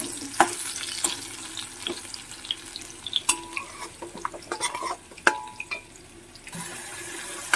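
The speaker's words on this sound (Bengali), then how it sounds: "আলু আর গাজরটা ভাজা হচ্ছে।" Potato and carrot pieces frying in a pan, a soft sizzle under frequent stirring scrapes and clinks of utensil against pan, with brief watery sounds, close and intermittent.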